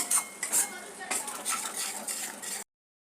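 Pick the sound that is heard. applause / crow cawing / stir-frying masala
stir-frying masala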